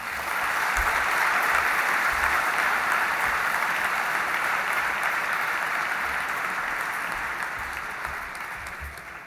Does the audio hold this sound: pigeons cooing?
no